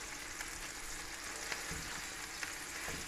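Beef mince hard-frying in a pan, a steady close sizzle with a few soft clicks as it is moved around, and no one speaking.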